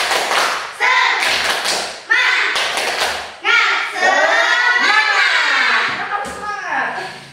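A classroom audience at an Islamic religion lesson performs a rhythmic spirit clap, chanting in unison while sharp claps and thumps land in bursts between the chanted phrases, close and loud.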